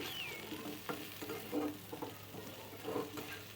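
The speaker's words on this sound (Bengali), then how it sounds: "তো দেখো এখানে মোটামুটি আমার ভাজাটা প্রায় কমপ্লিট হয়ে গিয়েছে" Onion, garlic and ginger fry in a pan, a quiet steady sizzle with occasional soft stirring scrapes and small pops, heard close with no voices.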